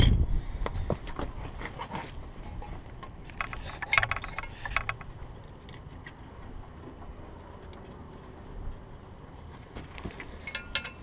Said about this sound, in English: Offer the caliper back up to it. Yep, that seems to go on a lot nicer now. and then just put the bolts back in.